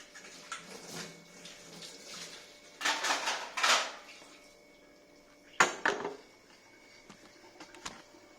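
Plates and utensils clatter in a home kitchen as they are picked up and set back down, several bursts of clinking and scraping separated by quiet stretches, close and moderately loud, with no talk.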